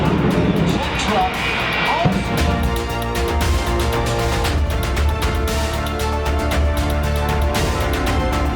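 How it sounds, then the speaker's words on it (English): A jet-powered truck engine roars loudly and continuously, with a deep rumbling blast and crackling bursts over a busy background of crowd noise. "Jet truck"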